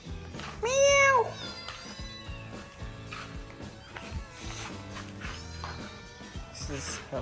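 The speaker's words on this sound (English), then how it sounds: "Kittens." Kittens meow in a clear, rising and falling cry near the start, with further softer mews and a person talking throughout over background music.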